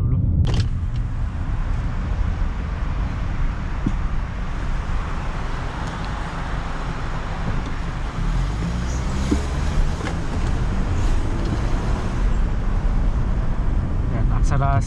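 A 2012 Honda CR-V rolls slowly into a toll gate, giving a steady rumble of road and engine noise from inside the cabin with some faint clicks and knocks, and no talk.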